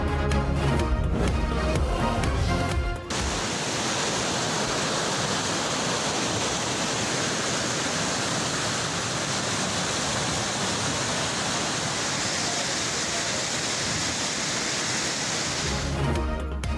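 Heavy monsoon downpour over flooded streets in Sector H13 of Islamabad–Rawalpindi, a dense, constant roaring hiss of rain and rushing water filling the whole scene without pause.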